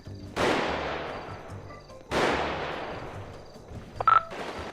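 Two sharp, loud gunshots ring out in a GTA V roleplay shootout, each with a long echoing decay, followed by a brief tonal beep.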